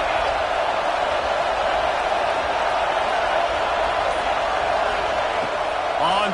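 In the College Football 26 video game, a stadium crowd at Oklahoma vs South Carolina produces a dense, steady roar that never lets up, with game commentary layered over it.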